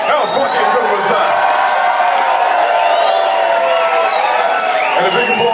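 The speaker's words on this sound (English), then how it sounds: "give them a huge round of applause, my friends" A concert crowd at a Melbourne music venue applauds and cheers loudly and steadily, a dense wash of clapping with whoops rising throughout.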